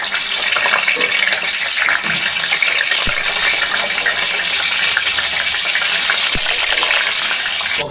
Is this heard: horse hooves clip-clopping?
no